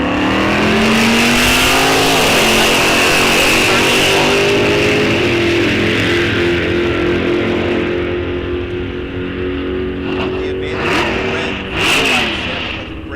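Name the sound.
drag race: Gen 4 Z28 Camaro vs 1955 Chevrolet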